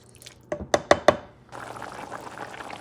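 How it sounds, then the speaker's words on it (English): A pot of black-eyed peas stew starting to simmer, with a few sharp clinks or taps near the start, then a soft, steady bubbling hiss that continues to the end. "It is simmering."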